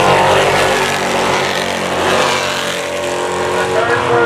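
Late model race cars roaring at full throttle at Capital City Speedway during a full moon race, a loud continuous engine blare of several cars accelerating together, with a commentator talking faintly underneath.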